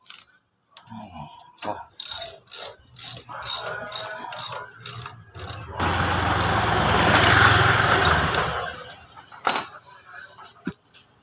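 A socket ratchet tightens the nut on a motorcycle's rear brake, making a run of rapid, evenly spaced clicking pulls, then a longer continuous whir of spinning before a few final clicks, all close and loud.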